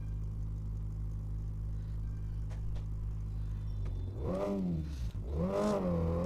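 A car engine in the video game Money Simulator drones at a steady low idle, then revs twice in rising and falling sweeps near the end, with no talking over it.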